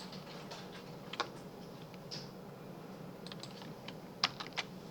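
Keys on a computer keyboard are pressed in a few quiet, scattered clicks, including a Ctrl+Space shortcut, over a faint room hum with no speech.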